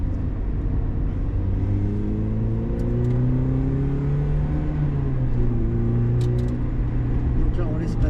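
Car driven on a racing circuit during a driving lesson, with the engine droning steadily and its pitch rising and falling through gear changes, close and continuous.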